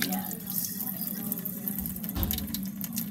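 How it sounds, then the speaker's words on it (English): Egyptian medium-grain rice is rinsed under a running tap, with steady splashing water and light sloshing close by, continuous for a few seconds. "Wash the rice and rinse it."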